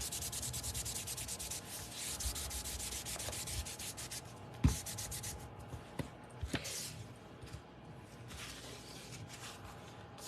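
Steady scratchy rubbing against the back of a stamped paper card during card making, continuing for about ten seconds at close range with a few small taps and knocks and no talking.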